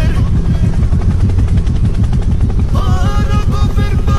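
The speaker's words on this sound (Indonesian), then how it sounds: "Helikopter, helikopter." Animated helicopter sound with a dense, rapid rotor chop pulsing loudly and steadily throughout, joined partway by a brighter tonal layer, with voices talking over it.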